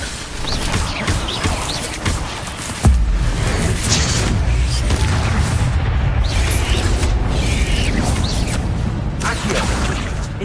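Incendio fire spells cast repeatedly in Hogwarts Legacy combat, with a loud boom partway through followed by a sustained roaring burst of flame; game sounds and faint bird-like calls sit around it.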